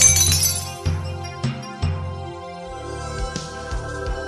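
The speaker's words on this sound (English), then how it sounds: "The slipper he was holding fell down and smashed into pieces." In an animated Cinderella cartoon, a glass slipper falls and smashes to pieces: several sharp shattering crashes, followed by lighter tinkling fragments, set against background music.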